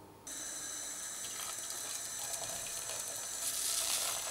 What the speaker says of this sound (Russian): Воды налил совсем немного, чтобы головы только покрылись